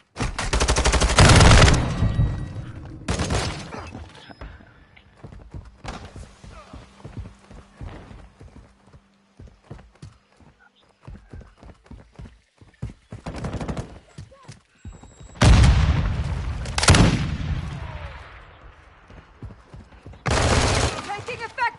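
Gunfire in the video game Modern Warfare 2 comes in loud bursts of automatic fire and fusillades, with scattered single shots between heavy volleys and game radio voices speaking in between.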